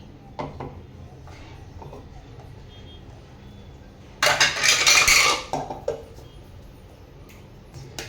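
A mixer grinder grinds dried bombil fish in one short, loud, harsh whirring burst, preceded and followed by faint clinks and handling noises.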